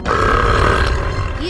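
A loud, drawn-out belch from a cartoon boy, one sustained voiced eructation lasting about a second, close and forceful, ending in a brief low tail.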